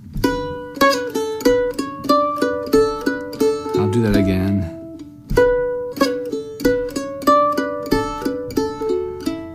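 Guitar picks out bars 7 and 8 of a tune's melody with ornaments, a steady run of crisp plucked notes with a brief strummed flourish midway, where a voice briefly speaks.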